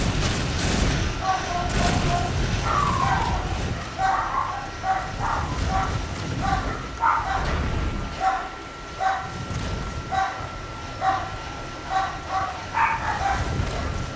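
Dogs barking repeatedly in Metal Gear Solid V: The Phantom Pain, a steady run of sharp barks mixed with game noise and someone talking over them throughout.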